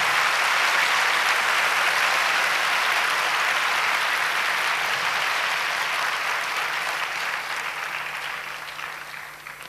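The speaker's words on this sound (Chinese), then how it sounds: "请你们 给他们一个最热烈的掌声吧" An audience at a life insurance congress gives sustained warm applause, a dense even wash of clapping that holds steady and then begins to thin and fade toward the end, with no voices heard.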